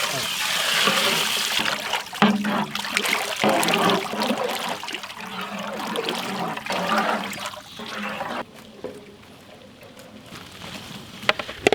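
Water pours into a cooking pan holding coriander powder, ground masala, asafoetida and rock salt for misal, a rushing, splashing flow that fades toward the end, with some talk mixed in.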